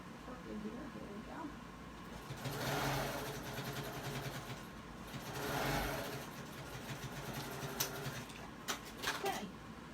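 A sewing machine stitches a V neckline on knit fabric in bursts of motor whir, swelling twice and then stopping, with a person talking over it and a few light clicks near the end.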